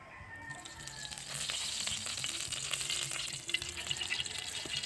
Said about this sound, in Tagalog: Maglagay tayong mantika, mga ka-idol, no?